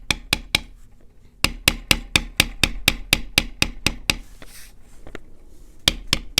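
A leather beveling tool is struck repeatedly with a mallet along tooled lines on a leather belt, producing sharp, evenly spaced close taps in quick bursts with a short pause partway through, alone without talk.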